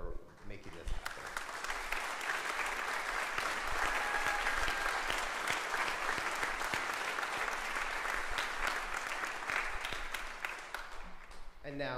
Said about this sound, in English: if we could give a round of applause to the three of them